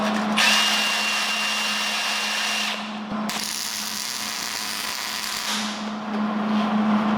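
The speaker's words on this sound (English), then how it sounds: "You could probably hear how much better that welded" A welder runs a bead on a Datsun 520 truck frame, producing a loud, close, steady crackling buzz that breaks off briefly midway and then resumes, with no talk.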